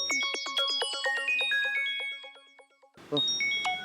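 A mobile phone rings with a bright, melodic electronic ringtone of quick repeated notes, nearby and clear, then trails off as a second burst of tones starts over some background noise.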